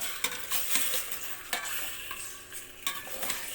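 Chicken adobo being stirred in a pan, close sizzling broken by several sharp scraping stirs at irregular intervals, no voices.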